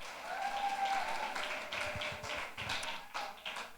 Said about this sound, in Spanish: Muy bien, un aplauso para Juan David.